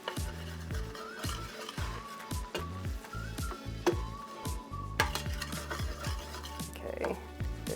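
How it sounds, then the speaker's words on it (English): Flour is whisked quickly into melted butter in a pan, making rapid, irregular metallic scrapes and clinks against the pan with a faint sizzle underneath. "we are gonna add 4 tablespoons of flour, and you're going to want to make sure that this gets whisked in pretty quick"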